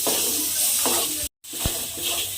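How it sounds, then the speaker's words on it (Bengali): Masala fried and stirred in a pan for eggplant and green pea bhujia with tomato: a steady close sizzle with soft scraping strokes and a brief cut to silence midway. "মশলাগুলো কিন্তু আমাকে কষিয়ে নিতে হবে"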